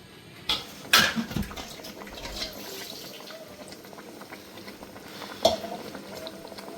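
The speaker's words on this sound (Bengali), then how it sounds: "এবার মশলাটা ভালোভাবে কষা হওয়া পর্যন্ত দেরি করব একটু" Masala for a Bengali rui fish and potato curry fries in a pan with a soft, continuous sizzle, broken by a few sharp utensil knocks near the start and one toward the end.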